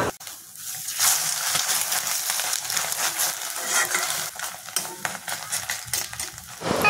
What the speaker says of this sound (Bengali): আগের ডিমটাও মোটামুটি বেশ ভালোই ভাজা হয়েছে আর এটাও ভালোই করেই ভাজছি এবারে